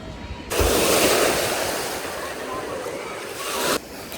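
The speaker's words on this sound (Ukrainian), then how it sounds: "вже включили хвилі, так що йдемо до ще одного е, басейну з хвилями" Artificial waves churn in a 40-by-40-metre wave pool at the Karpatia water park in Mukachevo, Zakarpattia, a loud continuous rushing wash that swells for several seconds, with voices mixed in.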